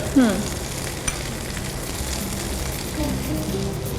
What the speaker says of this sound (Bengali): আচ্ছা, কাঁচামরিচ দিই, একটু কাঁচামরিচ দিচ্ছি।